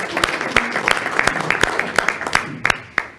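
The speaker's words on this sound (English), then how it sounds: "Don't let the applause fool you, man." A group applauds after a timed team exercise at a leadership workshop, a close, steady patter of many hands clapping for about three seconds with a few sharper individual claps standing out.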